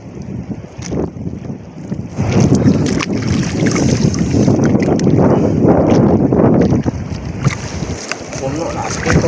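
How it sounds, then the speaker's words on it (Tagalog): Loud, rushing sea waves churning and crashing close by, a continuous roar mixed with heavy wind buffeting the microphone. "Lakas ng mga alon mga sisters. Yung maingay alon po yun."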